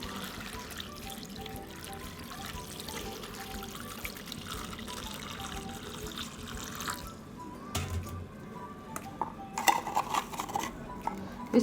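Water is poured into a bowl of sliced potato chips in a home kitchen, a steady trickling and splashing with light clinks of dishes and utensils toward the end.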